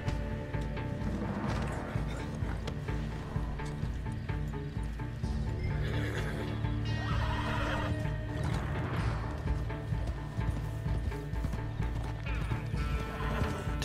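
A horse in the Red Dead Online video game whinnies while hooves clip-clop beneath, set over a steady low game soundscape, with the neighs rising loud in the middle of the stretch.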